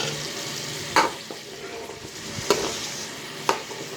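Chicken pieces frying in oil for chicken karahi, restaurant style, a steady close sizzle with three sharp scraping stirs against the pan spaced about a second apart, no voices.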